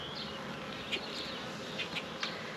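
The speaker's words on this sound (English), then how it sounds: "I will say the bees are more active right now" Honeybees buzz around an open hive during an inspection, a steady close hum with several individual bees darting past in short, louder swells.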